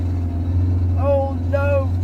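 Car with a slipping clutch and a gearbox low on fluid: a steady, loud low engine drone and hum runs throughout, with a voice talking over it in the middle and end.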